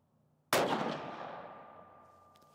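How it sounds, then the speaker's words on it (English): A single rifle shot from a Sako S20 Hunter at a sighting-in session bursts out sharply after a short silence, then rolls into a long, fading echo. "We're gonna take a few more shots and make sure we're getting pretty good groups."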